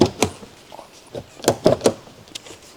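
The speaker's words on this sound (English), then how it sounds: "Open the front and rear doors." Front and rear doors of a Land Rover Discovery 4 opening in a workshop, a series of several sharp latch clunks and thuds spaced across a few seconds, close and fairly loud.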